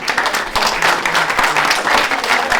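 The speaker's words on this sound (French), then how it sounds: "Je pense qu'on peut les applaudir les collègues de l'association APRA et les collègues du bloc ici." Audience applause filling a school hall, steady dense clapping from a crowd lasting throughout, loud and close, with no talk over it.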